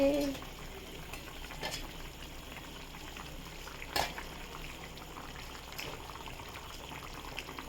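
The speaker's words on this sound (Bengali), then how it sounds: "দেখুন জলটা ফুটে গেছে, এক্ষেত্রে আমি মাছটা দিয়ে দেবো" Water rolls at a boil in a pan as fish is dropped in, a continuous bubbling hiss with one brief splash-like burst partway through.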